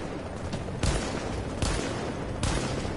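Bursts of gunfire from a firefight in The Division, with three loud broadband volleys at roughly even intervals over a dense, noisy battle background, no talk.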